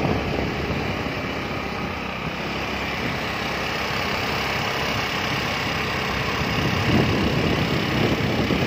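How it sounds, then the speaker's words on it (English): A scooter engine running while being ridden, a continuous loud rumbling drone with steady wind-like noise, close and unbroken from start to finish. "riding a bike with JK."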